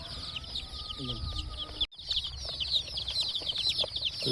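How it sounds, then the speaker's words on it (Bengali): Campbell, black and golden chickens kept at home, clucking and squawking nearby with bursts of wing flapping, while people talk over the birds throughout. "ক্যাম্বেল মুরগি আছে"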